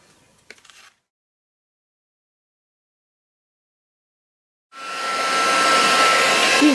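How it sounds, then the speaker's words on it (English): Heat gun melting embossing powder on a handmade blossom-themed ombre card, a steady blowing roar that starts after a few seconds of near silence and a few soft taps, then runs loud and close to the end. "Heat emboss it."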